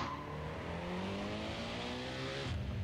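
Race car engine in the Need for Speed World game revving steadily and climbing in pitch, a continuous accelerating drone that stays fairly quiet and alone throughout.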